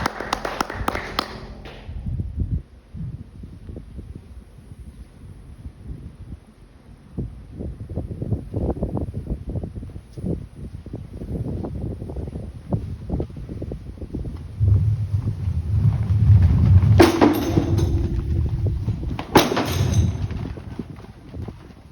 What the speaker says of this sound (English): please join me in a round of applause for our newest American soldier